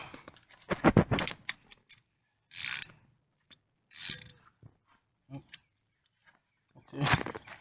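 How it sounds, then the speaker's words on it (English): A heavy duty 1/2-inch drive socket wrench with a 15/16 socket ratchets in several short, crisp bursts of clicking while working on a mower blade under a deck, with speech heard between the bursts. "So we have our 15/16 socket with the large drive 1/2 inch and the large heavy duty socket wrench."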